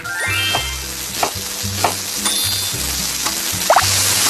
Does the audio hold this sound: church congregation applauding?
no